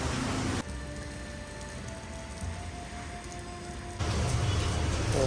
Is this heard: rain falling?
yes